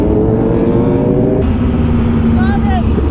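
Motorcycles rev on a group ride, their engines giving a steady, loud drone with a rising pitch, mixed with wind noise and a voice talking over it.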